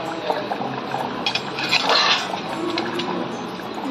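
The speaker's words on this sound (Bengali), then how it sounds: "এখানে মাটনটা ফুটছে।" A pot of mutton curry boils on a gas flame, bubbling and spattering steadily, with a few brief clinks of utensils against the pot partway through.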